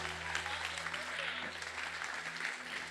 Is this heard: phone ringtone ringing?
no